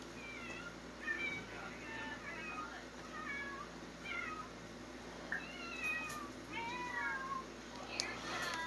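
A stray cat in The Sims video game meows repeatedly, about ten short rising and falling cries spread over a soft steady background hum.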